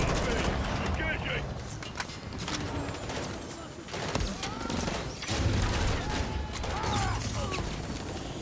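Gunfire aimed at a helicopter in the video game Modern Warfare 3: scattered shots and bursts crack over a busy mechanical battle din, with voices talking through it.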